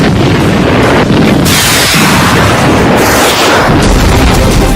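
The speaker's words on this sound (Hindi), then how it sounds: "एक घंटे के भीतर 65 रॉकेट धमाके" Repeated rocket explosions from Hezbollah Katyusha strikes on Kiryat Shmona, Israel, heard as a continuous roar of booms and bursts, loud, with heavy wind rumble and no talking.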